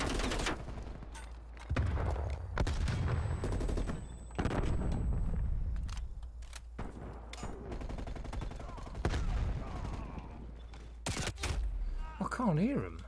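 Rapid bursts and single shots of gunfire from Call of Duty Cold War multiplayer on Xbox Series S, loud and dense across the whole stretch, with players talking over the shooting.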